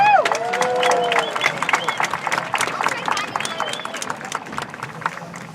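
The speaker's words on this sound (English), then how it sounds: "Let's give them a big round of applause" Graduation audience at a high school commencement bursting into a big round of applause, a dense roar of clapping mixed with cheers and crowd babble that gradually thins out.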